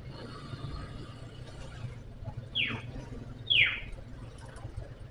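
Birds chirp twice in quick, sharp downward sweeps, moderately distant, over a steady low road rumble in the countryside of Kebun Pedas, Sukabumi, during a group ride.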